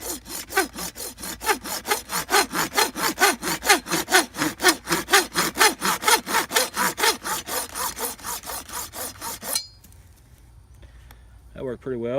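Kobalt folding saw cutting through 3/4-inch PVC pipe in quick, rhythmic back-and-forth rasping strokes, close and loud, about two strokes per second, then stopping abruptly, followed by a brief quiet pause and some light handling noise.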